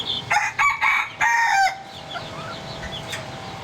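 A rooster crows loudly nearby in a few drawn-out bursts, then quieter clucks and bird calls follow in the background, in Saigon.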